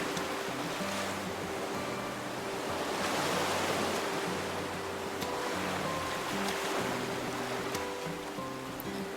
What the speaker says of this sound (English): Goodbye, waves!